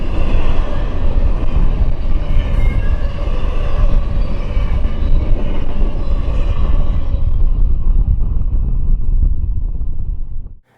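A loud, steady rumble of a passing EMD diesel locomotive with a heavy low drone and wind buffeting, holding constant before cutting off abruptly.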